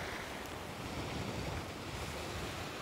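Wind blowing over the sea during a float-fishing outing, a steady, loud broadband rush with surf-like wash and microphone buffeting, continuous and without speech.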